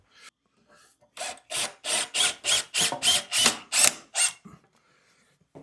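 Cordless power drill driving a screw into a mount while a utility sink and washer box are installed, nine loud whirring bursts in steady succession, each a second or less, close by with no talk.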